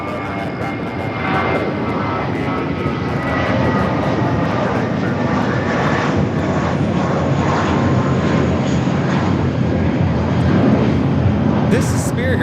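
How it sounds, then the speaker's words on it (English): A Spirit Airlines Airbus A320 jet taking off at Los Angeles LAX: a loud, steady engine roar that holds throughout, heard outdoors with voices talking over it. "This is Spirit Airlines 1818 taking off to Chicago on the A320."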